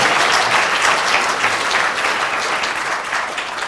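A lecture-hall audience at a university in-conversation event claps loudly and continuously, a dense, even burst of applause with no voices over it.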